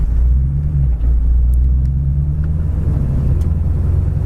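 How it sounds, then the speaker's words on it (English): A 1955 Ford pulls away in fourth gear, its engine a loud, steady low rumble with a deep droning hum that holds for the whole stretch as the car accelerates, no voices over it. "Take off in fourth gear, takes off just fine."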